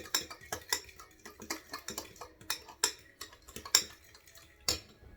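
A spoon stirring egg salad mix with onion powder in a bowl, close repeated clinks and scrapes in an uneven rhythm, fairly quiet with no talk.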